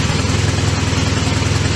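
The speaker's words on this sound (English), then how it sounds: "Well, it's a new engine, it's a fresh engine." A freshly rebuilt British motorcycle engine idles steadily in a workshop, a loud, even low throb with a continuous rumble close by and no voices.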